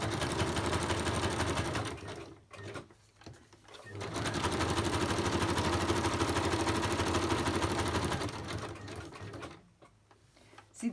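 Sewing machine stitching around a clear acetate pocket, running in two long steady bursts with a short pause between, close and loud, with a brief stop near the end.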